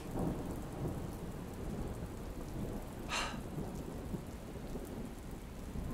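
Steady rain hisses continuously, with a single brief crack of thunder breaking through partway, fairly distant and soft.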